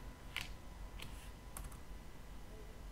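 Computer keyboard typing a short terminal command, a few faint separate key clicks in the first two seconds, then quiet steady background hiss. No one speaks.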